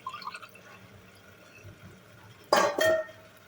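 Water is poured from a glass into a pot of rice for bagara rice: after faint drips and small clinks, a short, close splashing pour of about half a second sounds twice in quick succession.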